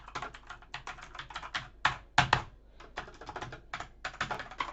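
Typing on a Sandberg Hailstorm keyboard with braided cable, a close, steady patter of key presses in quick irregular bursts with brief pauses, no voices.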